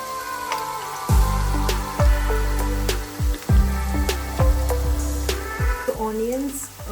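Onions and cashew nuts sizzle and fry in hot oil for a paneer curry, with a steady crackle broken by repeated stirring thumps and scrapes, close and fairly loud, no voices.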